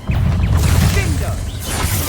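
Confringo blasting spell explosion in the Hogwarts Legacy video game, a loud close fiery burst with shattering crackle and whooshing sweeps, sustained rumbling low end throughout a frantic fight with spiders.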